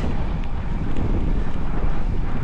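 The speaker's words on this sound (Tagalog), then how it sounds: "mahangin pa rin" Steady, loud wind roars and buffets across the microphone while cycling, with a deep, constant rumble, with no voices.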